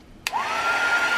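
A hair dryer switches on abruptly and runs steadily with a whirring, rising whine as it blows on freshly made resin castings, close and alone without talk.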